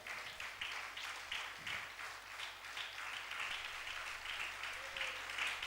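A church congregation at a Sunday service claps in a rhythmic, even pattern that sounds fairly soft and distant and keeps going throughout.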